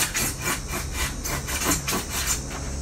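Knife cutting through a styrofoam cooler, a steady rhythmic rasping and squeaking of repeated strokes, close and moderately loud, with no talking.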